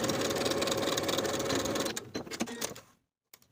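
A sewing machine runs steadily at speed stitching the shoulder seams of a peplum top at a 3/8 inch allowance, then slows with a few stuttering stitches before stopping.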